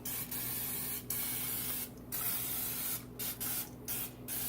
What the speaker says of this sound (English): on this side, you do want to spray with some cooking spray